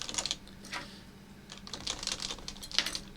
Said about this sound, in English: From my understanding, gotta take keycaps out first.